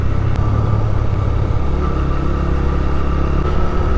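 A motorcycle is ridden along a road toward the Kageshwari Mahadev temple, its engine giving a steady, loud, low rumbling drone with faint wind and road noise throughout and no voices.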